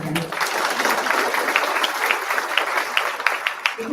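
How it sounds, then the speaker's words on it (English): Audience applause at a high school scholarship award ceremony, a steady, dense wash of clapping that holds for several seconds without a break. "We can clap again."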